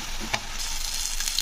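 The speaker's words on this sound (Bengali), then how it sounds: "তো আদা রসুনের পেস্টটা দিয়ে নাড়তে হবে যতক্ষণ আদা রসুনের গন্ধটা কাটছে" Ginger garlic paste fries in a pan while being stirred, a close, steady sizzle with a few brief scraping strokes of a spoon.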